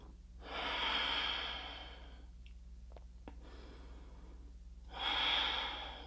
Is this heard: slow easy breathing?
yes